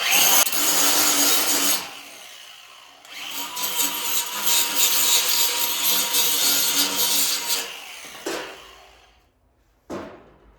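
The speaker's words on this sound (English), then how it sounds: "take the little bit of burr off of this from cutting it" A freshly cut metal part for a personal diesel submarine being deburred in a workshop, giving loud, close, harsh grinding passes that stop and restart, then a short final burst, with no talking.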